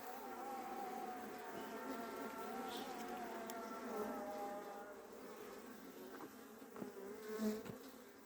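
Bees humming inside a beehive during an early-season hive inspection in Adana, a faint continuous layered drone of many insects with a few closer buzzes passing by.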